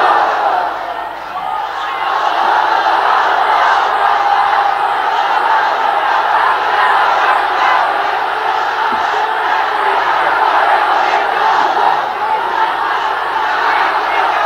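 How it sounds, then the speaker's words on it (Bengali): Large gathered crowd shouting the religious slogan 'Naraye Takbir, Allahu Akbar' in unison, a loud continuous massed roar of voices that swells and holds for many seconds. "স্লোগান তো একটাই মুসলমানদের, নারায়ে তাকবীর আল্লাহু আকবার"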